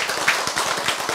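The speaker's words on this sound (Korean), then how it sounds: "박수 치세요." An audience at a talk claps briefly, a quick loose patter of many hands lasting about a second.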